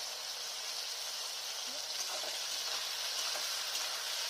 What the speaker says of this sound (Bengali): ঝিঙ্গা আর আলুটা হালকা ভাজা করে নিলাম।